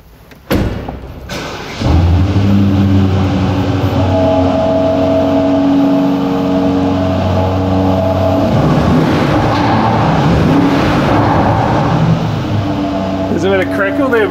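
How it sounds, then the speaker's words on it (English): An Aston Martin DBX starting with a sharp crank and catch, then its engine revving loudly and holding high revs with crackles before easing back, with a door thud near the end. "Can we hear the DBX? We certainly can, sure."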